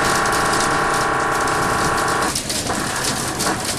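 Dense, hail-like pattering fills the soundscape of the video game Bullet Stress as a steady, loud rush of tiny impacts that thins out slightly toward the end.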